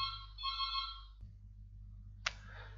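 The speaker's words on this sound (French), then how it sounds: "je vais un appel de téléphone." A telephone ringtone for an incoming call chimes as a bright electronic melody for about a second, then cuts off, leaving a low steady hum and a brief click.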